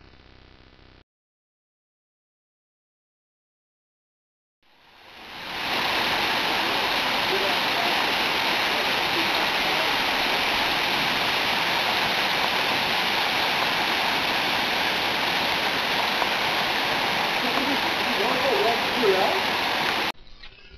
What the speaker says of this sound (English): the falls come into view, cascading down this rock face